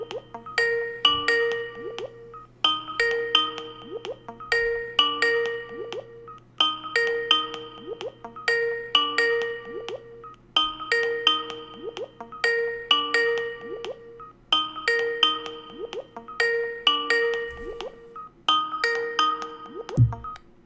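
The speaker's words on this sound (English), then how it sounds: "So I'm trying to get Andrew on the phone" A Skype call rings out over and over, its bright electronic melody repeating in evenly spaced bursts about every two and a half seconds, clear and steady with no talking.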